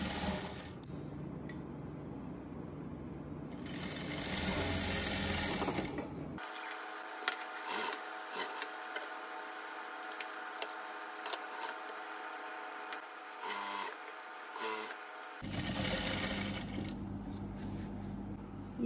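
Sewing machine stitching lace onto a plain fabric suit piece, with bursts of steady mechanical whirring that stop and start between quieter handling clicks and rustles.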